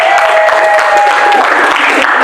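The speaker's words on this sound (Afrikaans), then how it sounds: "as ons net nog 'n warm welkom hande klap gaan gee vir die mense wat nog gaan kyk" An audience gives a warm welcoming round of applause, a dense, loud, continuous wash of clapping from many hands that holds steady from start to end.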